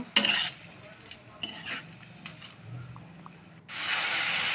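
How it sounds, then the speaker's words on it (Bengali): Masoor dal with green chilies is stirred in a pan, with spoon scrapes and soft sizzling, before a loud, steady frying hiss rises near the end. "এখন ভালো করে মিশিয়ে নেব।"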